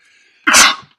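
A single loud, close human sneeze bursts out after a moment of near silence, one sharp explosive blast that fades quickly.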